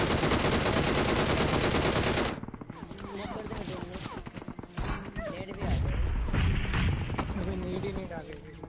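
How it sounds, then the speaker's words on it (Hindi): Gunfire in the mobile battle-royale game PUBG Mobile: dense, loud rapid shots fill the opening two seconds, then scattered bursts and game noise continue under a voice. "फायरिंग होती है और डेंजर।"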